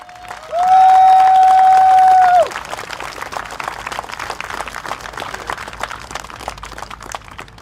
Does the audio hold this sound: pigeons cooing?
no